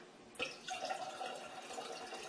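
Water poured into a clear plastic container, starting with a sudden splash and settling into a steady filling trickle, quiet and close with no talking.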